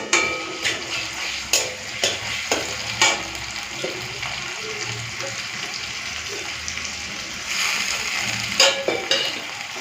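Ginger, garlic and dried chili paste frying in an iron wok, a soft sizzle with repeated sharp scrapes and knocks of a spatula stirring against the metal.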